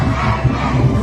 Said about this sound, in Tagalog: Yan na, sigaw, Duterte na